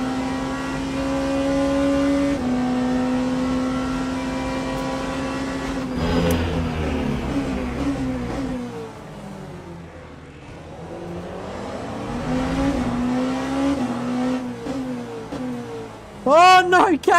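Prototype race cars, including a Peugeot, lap the Circuit of the Americas in the Le Mans Ultimate sim, their engines droning and shifting pitch through gears, with a sharp high whine swelling near the end.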